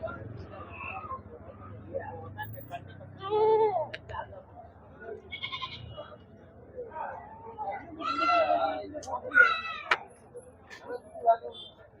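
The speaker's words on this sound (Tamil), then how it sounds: "இங்க 2 குட்டி, 2 வெள்ளாட்டம் குட்டி, இது ஒரு செம்மறி குட்டி" Two goat kids and a lamb bleat at a busy goat market in Thoothukudi district, with several sharp cries rising over steady crowd chatter and nearby talking.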